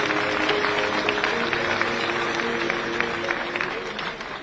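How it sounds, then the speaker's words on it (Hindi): An audience at an event honouring sports players applauds, a dense, sustained wash of clapping that fades slightly at the end, with a few voices mixed in. "जोरदार तालियां।"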